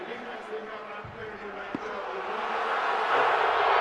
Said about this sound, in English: the crowd doesn't like that at all